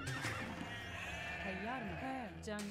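Sheep bleating in Age of Empires II, a quiet wavering animal cry with pitch that rises and falls, under a steady game soundscape.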